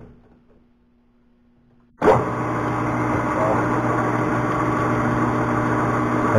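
A lathe spinning a 4-inch workpiece at 360 RPM with a high-speed tool bit: after two seconds of near silence a motor starts abruptly and runs with a steady whirring hum, close and loud.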